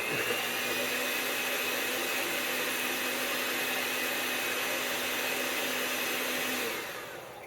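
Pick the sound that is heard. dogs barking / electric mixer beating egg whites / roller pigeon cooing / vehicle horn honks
electric mixer beating egg whites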